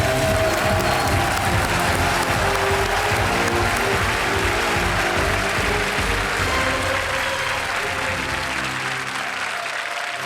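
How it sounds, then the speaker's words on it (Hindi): A studio audience on the KBC quiz show claps in loud, dense, sustained applause that fills the space for about ten seconds before easing slightly at the end. "ताली बजती रहे"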